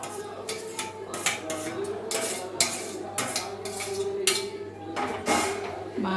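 Mango pieces tossed and mixed in a bowl for mango chutney, giving a run of close clinks, scrapes and knocks of spoon against dish in an irregular rhythm, fairly quiet throughout.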